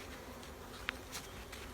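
Honey bees in a new nuc buzz softly while a hive frame is lifted for inspection, a faint, steady hum with a brief sharp click partway through.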